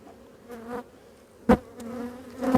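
Honeybees buzzing around an open hive during an inspection, a steady close drone with louder swells as bees pass near, no talking.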